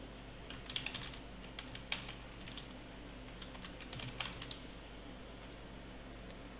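Someone types on a computer keyboard while entering a search in Windows 7, giving a quiet, fairly close run of light, irregular key clicks against a faint background hiss.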